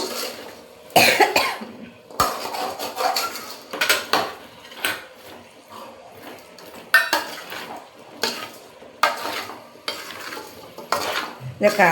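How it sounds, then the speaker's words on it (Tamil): Indian gooseberry pickle sautéing in a pan: repeated loud scraping and clattering stirring strokes against the pan over a light sizzle, irregular and close, with a cough-like burst, no talking. "நல்லா கொஞ்சம் நேரம் அப்படியே அந்த இதிலே வதங்கட்டும்"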